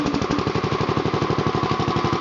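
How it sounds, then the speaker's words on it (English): A Power King garden tractor's small engine runs just after a push-button start, chugging loud and close in a fast, even pulsing rhythm with no talk over it. "It's a push button start. There she goes. Didn't need much choke at all."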